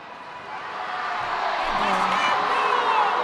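Spectators at a netball match between Gibraltar and Ireland raise a swelling, discontented crowd roar over an umpire's call, building from a murmur to a loud, sustained clamour with no clear talk.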